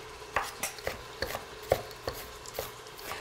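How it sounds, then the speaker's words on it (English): An onion is roughly chopped with a knife on a board, a dozen uneven, crisp thuds close by, while beef browns in the kitchen and no one speaks. "let's give this onion a rough chop here"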